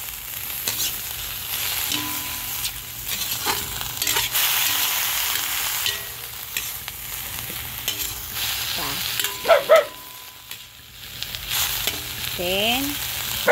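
Leaves sizzle and crackle steadily in a hot frying pan over a home stove, with stirring scrapes and clatter throughout, close and fairly loud, with no talking.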